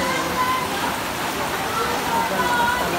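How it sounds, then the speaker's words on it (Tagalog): Heavy typhoon rain pours steadily during flooding among houses, a dense loud continuous wash with no pauses. "Lakas ang ulan, walang tigil."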